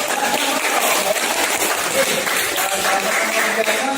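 Classroom students clapping for a classmate's correct answer, a busy, moderately loud patter of many hands with some voices mixed in.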